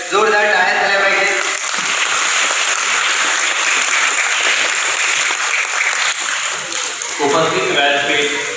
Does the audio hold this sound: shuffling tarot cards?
no